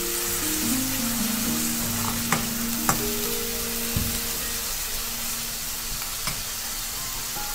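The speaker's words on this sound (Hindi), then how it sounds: "इसको थोड़ी सी देर मसाले को अच्छे से भुनना है" Masala roasting and being stirred in a pan while methi masala baati is cooked, giving a steady close sizzle with a few sharp scrapes and clinks of the spoon against the pan.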